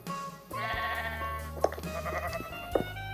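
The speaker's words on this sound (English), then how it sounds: "I gotta take care of these sheep." Minecraft sheep in a mesa village bleat in a sustained, wavering baa, followed by a couple of shorter bleats, close and clear with no talking over them.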